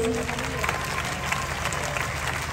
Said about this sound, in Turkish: Bir alkış rica ediyoruz.